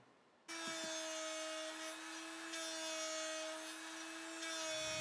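A router cuts an angled recess in a wooden jewelry box part using an angled jig, starting abruptly and holding a steady loud whine with a constant pitch for several seconds, with no voices.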